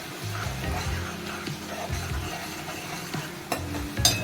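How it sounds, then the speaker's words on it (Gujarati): Ginger-chili paste sautés in hot oil in a home kitchen pan, a soft steady sizzle with scraping spoon stirs and occasional clinks, close and fairly quiet, no talking. "મેં અહીંયા બે ટેબલ સ્પૂન જેટલી પેસ્ટ લીધેલી છે એને તેલમાં સારી રીતે સાંકળી લઈશું"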